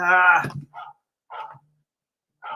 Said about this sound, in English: my phone is barking